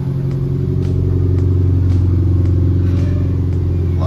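A 1999 Subaru engine, out of service for a couple of years, runs steadily in its car at a close, loud, even idle, with a deep rumble and a faint ticking clatter throughout.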